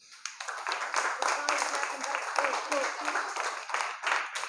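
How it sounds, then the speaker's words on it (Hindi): Students in a school class clap their hands on request, a dense burst of applause rising at once and continuing steadily, with some voices mixed in. "अच्छा, एक बार ताली बजा दो बेटा।"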